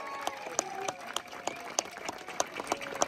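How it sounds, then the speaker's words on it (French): Scattered applause from a small crowd at a cycling trophy ceremony in Legna, with sparse, distinct handclaps ringing out at a moderate distance over a faint background. "On peut les applaudir très très fort"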